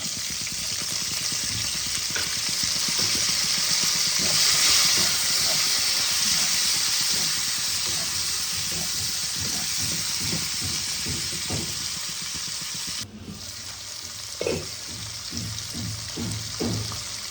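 Spices with ginger paste and green peas sizzle and fry steadily in a pan, with a bright continuous hiss and repeated scraping stir strokes, loud and close, alone without talk.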